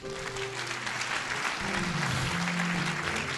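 A church congregation applauds and cheers for Jesus, a dense, sustained wash of clapping from a crowd with raised voices mixed in, steady throughout.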